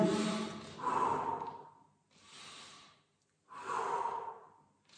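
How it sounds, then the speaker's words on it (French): Slow, deliberate breaths during a home gym workout: long drawn inhales and exhales in three separate waves, each rising and fading with short quiet pauses between, close to the microphone and with no talk. "J'inspire, je souffle quand je relâche."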